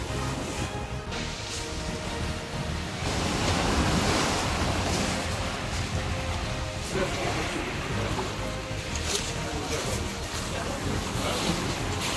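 Ocean waves along the rocky Road to Hana coast on Maui, a loud continuous roar of surf breaking close by with heavy wind buffeting the microphone; a voice speaks briefly under the crashing water.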